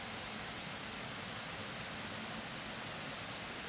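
Mina Sauk Falls on Taum Sauk Mountain in Missouri gives off a steady, even rush of falling water over boulders, continuous and unbroken with no voices.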